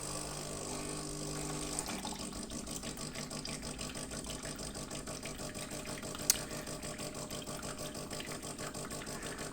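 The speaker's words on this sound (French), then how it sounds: "dès qu'on l'allume, elle fait ça, elle s'allume, elle rince systématiquement le groupe" A Delonghi Magnifica S bean-to-cup coffee machine rinsing its brew group on start-up gives a quiet, steady pump hum with water running through it, and one brief click partway through.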